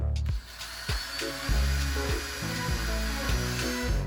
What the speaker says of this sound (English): My first step is to sand these sharp edges to soften up.